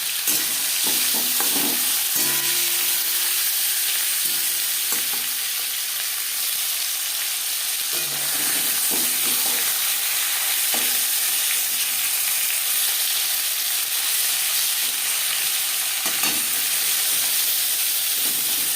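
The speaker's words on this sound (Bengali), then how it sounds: "লবণ হলুদ মেখে রাখা মাছ আমি অনেকটা রিফাইন অয়েলে করছি" Bhangor fish marinated in salt and turmeric fry in plenty of refined oil, giving a loud, steady sizzle with bubbling crackle that runs unbroken from start to finish, with no talking.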